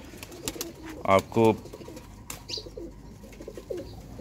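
Teddy pigeons coo close by in two short bursts of soft throaty calls, with quieter bird sounds around them and someone talking at intervals.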